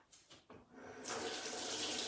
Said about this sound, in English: Let me wash my hands, one sec.